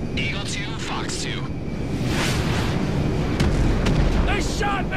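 In GTA V, a missile strikes a plane and sets off a loud, rumbling explosion that rolls on over a roaring engine, while radio voices talk over the blast.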